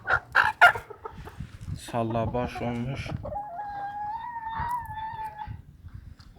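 Hens cluck in short bursts, followed by a rooster's long crowing call, with a person speaking briefly over the farmyard sounds.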